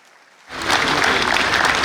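Conference audience at an engineering society meeting in Ibadan bursting into loud, sustained applause after a brief quiet moment, dense clapping filling the hall.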